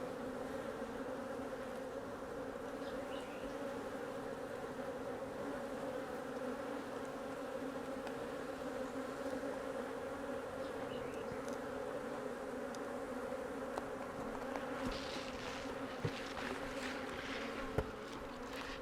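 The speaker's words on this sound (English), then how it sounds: "Okay, so we got a bunch of bees in here." Dense, steady buzzing of many honey bees around a hive, with a few bees near the microphone, continuous and fairly faint throughout.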